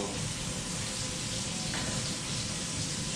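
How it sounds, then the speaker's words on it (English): Kurobuta pork fries gently over medium-low heat in a pan, giving a steady, even sizzle with a soft constant hiss close by and no talking. "it's still like a medium low, nice and gentle frying"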